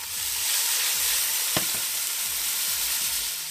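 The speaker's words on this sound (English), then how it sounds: "The first thing that goes, the potatoes and onion together, because we want to brown them." Potatoes and onion browning in a pan for borsch, a steady close sizzle of frying with a brief scrape of stirring partway through.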